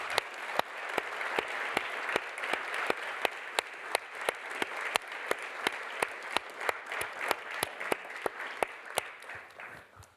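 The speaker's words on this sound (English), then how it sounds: "would invite you to give them a big round of applause" Panelists receive applause at the Berlin Peace Dialogue 2024: mostly a soft, diffuse crowd clapping with a sharp, regular near-field clap standing out every fraction of a second throughout.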